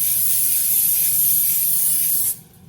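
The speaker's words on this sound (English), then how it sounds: "So I'm gonna spray" Non-stick cooking spray hisses from a can in one loud, continuous burst before salmon is cooked, then stops abruptly.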